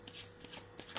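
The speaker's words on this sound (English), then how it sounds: "I'm just going to quickly shuffle these cards once again," Tarot cards are riffled and shuffled in quick, soft bursts, close and quiet, lasting about a second.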